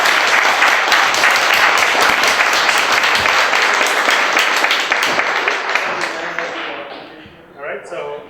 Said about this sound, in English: final round of applause for our panelists